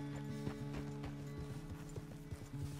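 Horse hooves clip-clop in a steady walking rhythm over a low sustained droning tone, moderately close, in Red Dead Redemption 2.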